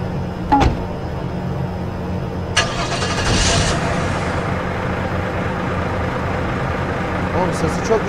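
A car engine starts up in the video game Streamer Life Simulator with a sudden loud cranking burst, then settles into a steady mid-pitched idle, with voices talking over it.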